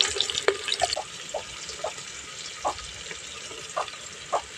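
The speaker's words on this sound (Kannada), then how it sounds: "ಮೆಂತ್ಯ ಸೊಪ್ಪನ್ನು ಫ್ರೈ ಆಗುತ್ತೆ" Fenugreek leaves frying in oil in a pan give a soft, steady sizzle with a few faint stirring clicks and taps scattered through it, close and quiet, with no talk.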